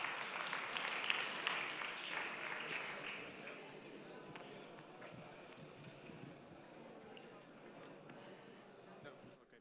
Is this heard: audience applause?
yes